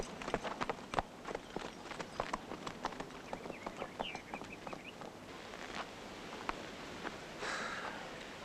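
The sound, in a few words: horse hooves clip-clopping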